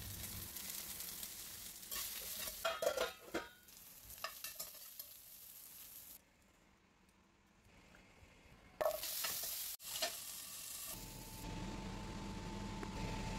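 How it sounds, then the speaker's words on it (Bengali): Bitter gourd and vegetables with salt and turmeric frying in oil in a wok: quiet, steady sizzling with scraping stir strokes and clatter, a brief hush in the middle, then the sizzle resumes. "একই কড়াইতে আরও কিছুটা তেল দিয়ে উচ্ছেগুলো লবণ আর হলুদ দিয়ে ভেজে নেব, আর তার সঙ্গে একে একে সব সবজিগুলো ভেজে নেব।"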